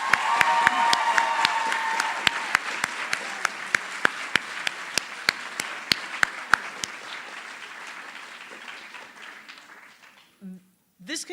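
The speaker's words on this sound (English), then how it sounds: "We have one last round of applause for all of our award winners." An audience at a school prize-day ceremony applauds the award winners with sustained, broad clapping that is moderately distant, with a few sharp individual claps standing out, before it fades into quiet and a voice begins speaking.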